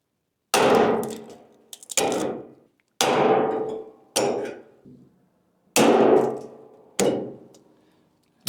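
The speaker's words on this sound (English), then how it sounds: "I'm just going to go ahead and punch a hole." A hand hole punch bites through classic car door skin sheet metal, six loud ringing metallic clanks spaced about a second apart, each decaying quickly into silence.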